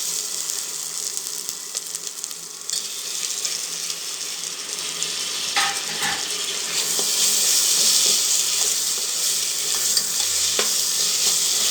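Tomatoes sauté in a pressure cooker for mutton biryani, giving a loud, steady sizzle with intermittent stirring scrapes close by and no talking.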